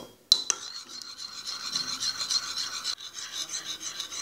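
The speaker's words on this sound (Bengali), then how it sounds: "এবার দুধটাকে ভালো করে নেড়ে মিশিয়ে নিব।" Egg and milk mixture being stirred in a bowl, a steady close rasping scrape that runs continuously after a sharp knock at the start, with a brief break near the end.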